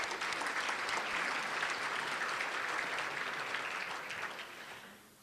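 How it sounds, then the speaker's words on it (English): Sustained applause from a county meeting audience honoring Seminole County businesses, dense even clapping that fades out over the last second. "Let's give them a round of applause"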